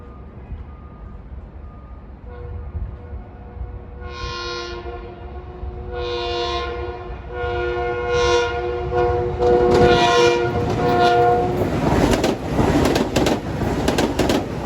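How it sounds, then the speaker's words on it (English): LIRR M9 trains pull into Mineola station at evening rush hour, sounding a series of horn blasts over a low rumble that grows steadily louder as the cars approach. "Here come the M9s at 7:05, heading back to Hillside."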